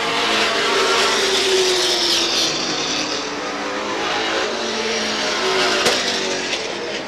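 Race cars roar toward the finish line at Star Speedway in 1991, a loud, continuous engine drone with passing pitch shifts as the pack sweeps off the final turn.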